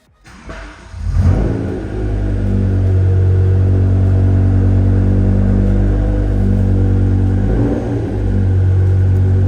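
BMW E60 M5 engine starting and settling into a warm-up idle nearby: a brief cranking burst, then a loud, steady, deep rumble that holds evenly with a slight dip near the end.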